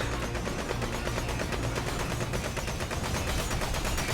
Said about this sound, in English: the fucking gunshots are kind of loud in my ears